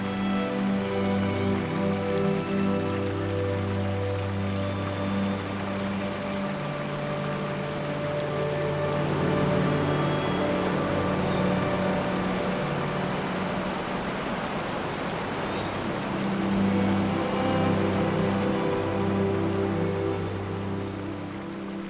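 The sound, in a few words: mountain river flowing into small waterfalls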